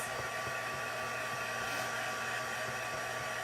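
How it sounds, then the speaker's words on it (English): A heat tool blowing hot air to dry damp, heavily inked cardstock, producing a constant loud whooshing hum with a steady motor drone and no breaks. "So I'm just drying it off, letting that ink really set in"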